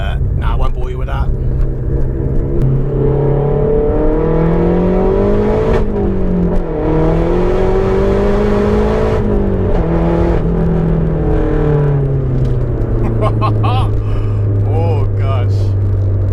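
Inside a 400 BHP Mazda 3 MPS Aero edition, the engine drones loudly through the cabin, its tone rising and falling as the car accelerates and shifts. A voice speaks briefly over the constant roar.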